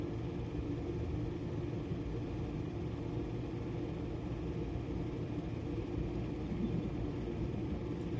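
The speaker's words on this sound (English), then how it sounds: "That lightning flash seemed synced with these cars driving by each other right now." Cars drive past one another on a road during a thunderstorm, heard as a steady low rumble of passing traffic that holds at moderate loudness throughout.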